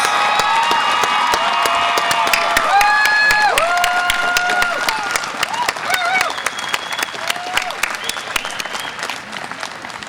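Sustained crowd applause at a university commencement ceremony, dense and steady with occasional whoops and cheers rising above it, gradually tapering toward the end.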